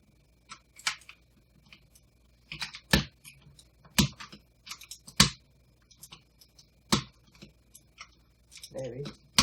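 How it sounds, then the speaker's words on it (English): A keycap puller prying keycaps off a Ducky One TKL RGB keyboard gives several sharp, close plastic clicks and snaps at irregular intervals, with someone talking quietly between them. "if I can find their keycap puller, I'll pull one off so I can show you"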